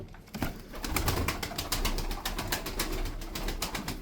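Tumbler pigeons cooing in a loft amid a steady rustle of wings and scuffling, the soft coos low and continuous under busy, crackly movement noise.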